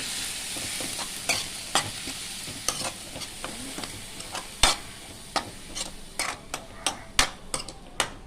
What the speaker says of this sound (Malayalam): മുറിച്ച് വെച്ചിരിക്കുന്ന സാമ്പാർ ചൂര ഇതിലേക്ക് ഇട്ട് കൊടുക്കാം നന്നായി ഒന്ന് മിക്സ് ചെയ്തെടുക്കും